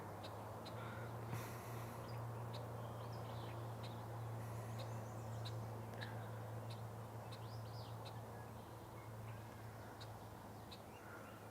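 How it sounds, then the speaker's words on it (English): Red-winged blackbirds give short, sharp calls again and again during breeding season, clear against a steady low rumble and hiss that runs throughout. "Being pestered by the red-winged blackbirds"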